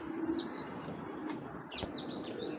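A black racer female pigeon flaps its wings, brief soft wingbeats mixed with thin chirps and whistling tones close by.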